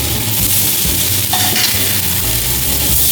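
Seabass fillet sizzling and frying in a hot pan after being flipped skin side, a steady loud hiss with a brief scrape and clatter of the flip midway, no talking.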